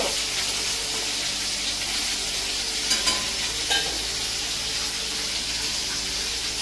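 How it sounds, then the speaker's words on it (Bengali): Fish fries in a pan in a home kitchen, a steady broad sizzle close by with a few light clicks of utensils, no talking. "তো এখানে মাছ ভাজা চলছে"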